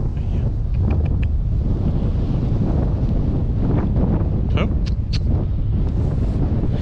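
Strong gusty wind buffets the microphone outdoors beside a horse, a continuous loud rumble with faint rustling throughout.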